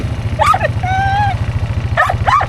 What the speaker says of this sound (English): Bark and squeak.